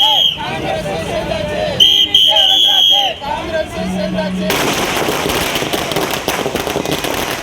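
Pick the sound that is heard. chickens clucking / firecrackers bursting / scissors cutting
firecrackers bursting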